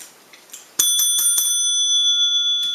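A bell sound effect, a quick run of bright metallic strikes that then ring on as a sustained, shimmering tone, clear and up close with no talking.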